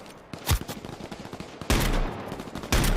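Shotgun fire in the H1Z1 video game: a few sharp, loud booming blasts spaced about a second apart, with rapid crackling gunfire between them.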